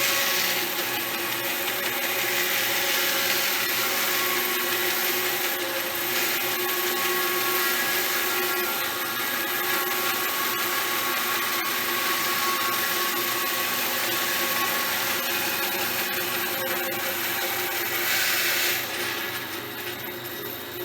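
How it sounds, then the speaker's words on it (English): A 4x4 wooden post is ripped down freehand with a power saw, giving a continuous loud whining, grinding cut that holds steady for about twenty seconds close by and then eases off at the end, with no talking. "you can take a 4x4 or anything else and just rip them down. Again, I'm just doing a freehand."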